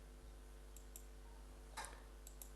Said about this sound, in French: Je clique sur OK.